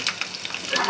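Potato chips fry in hot grease in a pot, giving a steady close crackling sizzle with bright bursts of popping throughout.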